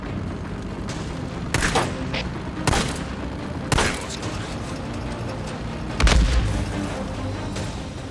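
Gunfire in Days Gone: four separate loud shots spaced a second or more apart, each a sharp crack with a boomy tail, set over a steady mechanical background rumble.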